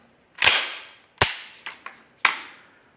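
A toy gun fires four sharp, loud cracks close by, each snapping report followed by a short ringing decay, with two quicker shots in the middle and no talk.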